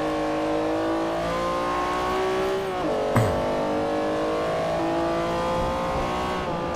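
A muscle car engine in Forza Motorsport 4 drones steadily at high revs, with a gear change near the middle and a short burst of tire noise, loud and continuous with no talking.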